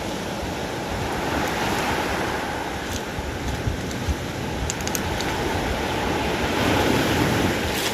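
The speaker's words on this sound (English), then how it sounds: "Beach really beautiful and nice." Ocean surf washes steadily onto a beach with a constant broadband roar, close and loud, joined by gusts of wind buffeting the microphone throughout, with no voices.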